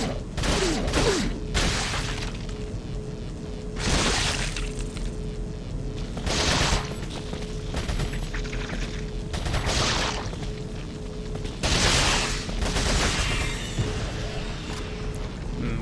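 Repeated gunshots in Resident Evil 4, loud cracking blasts spaced irregularly every second or two across a long stretch of tense game ambience, with no talk over them.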